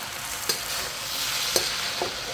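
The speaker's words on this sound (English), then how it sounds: "So always stir fry. It prevents it from sticking at the bottom." Thai fried rice with pineapple, basil and cashew nuts stir-fried in a hot pan, a loud steady hiss of frying with three brief scrape-and-toss clicks, close up and without speech.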